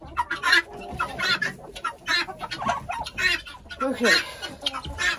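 Chickens cluck and murmur close by while being fed in a snowy yard, a busy overlapping chatter of short calls, with a person speaking briefly.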